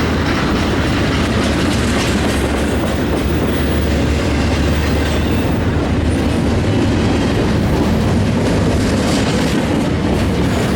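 A long freight train rolls past up close at Fullerton, a loud, steady roar of wheels and rail with continuous clatter and rumble, no voices over it.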